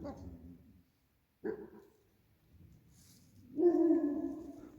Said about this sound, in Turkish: Bu tarafta birkaç köpek daha var.